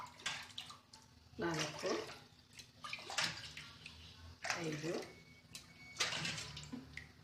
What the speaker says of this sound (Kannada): ಇವಾಗ ಅದೇ ಲೋಟದಲ್ಲೇ ನೀರು ಹಾಕ್ತಾಯಿದ್ದೀನಿ